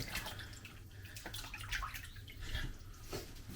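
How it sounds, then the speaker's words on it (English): Hands being washed under a running tap in a home kitchen, a soft continuous splash of water with slight gurgles and drips, fairly quiet and steady, with no talking. "Just wash my hands again."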